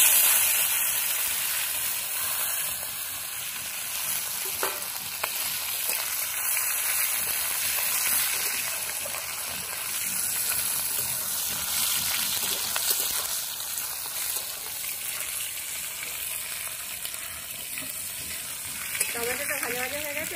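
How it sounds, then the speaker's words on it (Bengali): Chopped tomato sizzling in hot oil with cumin seeds for a Bengali mankochu dom, a steady close hiss of frying with occasional stirring scrapes throughout. "টমেটোটা ভাজা ভাজা হয়ে গেছে"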